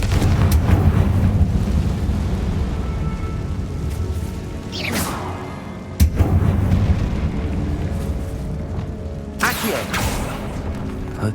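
Confringo spell explosions in Hogwarts Legacy: two sharp blasts with whooshing bursts, one near five seconds and another around six, over a dense rumbling game backdrop, with a further swell near the end.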